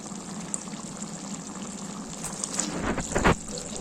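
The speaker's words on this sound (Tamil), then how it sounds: "கொஞ்சம் தண்ணி ஊற்றி வச்சிடலாம்." Water is poured into a pot of vegetables for dalcha, with a soft gushing splash that builds and becomes louder in the last second over a faint background hum.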